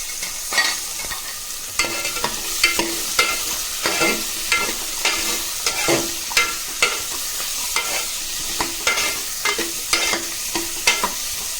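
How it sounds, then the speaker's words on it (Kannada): Vegetables frying in a pan for vegetable sambar, stirred with a utensil: close, rhythmic scraping strokes over a steady sizzle, with no talking. "ಈ ತರಕಾರಿ ಕೂಡ ನಾನು ಫ್ರೈ ಮಾಡ್ಕೊತಾ ಇದ್ದೀನಿ"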